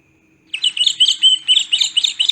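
Bird chirping sound effect from the InShot video editor: a rapid, bright string of tweets and trills that starts abruptly after a brief silence and continues steadily, close and clear, with no talk.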